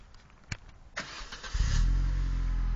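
A petrol remote control car engine pulls over a couple of times with sharp clicks and tugs, then catches and settles into a steady, loud, buzzing idle close by.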